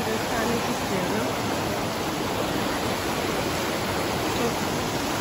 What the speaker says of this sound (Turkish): Bugün Menderes Gıdan Şelalesi'ne geldik.